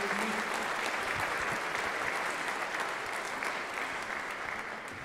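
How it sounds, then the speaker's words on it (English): Sustained round of applause from a church congregation, steady and dense clapping that holds at a full level across the whole stretch before easing slightly at the end. "Let's give him a little round of applause."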